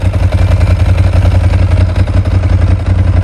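A Ducati XDiavel motorcycle with a custom brushed steel tank idles close by, a loud, deep, steady throb with rhythmic pulsing and mechanical clatter.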